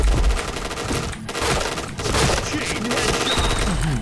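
Rapid bursts of T77 rifle fire in the Point Blank shooter game, loud and sustained with clattering shots layered over a busy game mix, broken by brief pauses.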